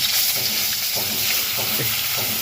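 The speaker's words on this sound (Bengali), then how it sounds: "এবারে ফুলকপিটা ভেজে নেব" Cauliflower pieces still carrying a little water fry in hot oil, a steady loud close sizzle with spluttering pops and a few stirring scrapes, with no voices.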